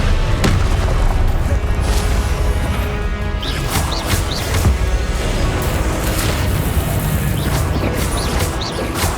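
Blasting-spell explosions from Hogwarts Legacy: repeated loud booms and crashing impacts burst through a dense, continuous din of combat effects, with sharp hits spaced irregularly across the scene.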